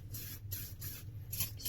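WD-40 is sprayed onto a rusty Navy knife in three or four quick, faint aerosol hisses, close by and with no talking.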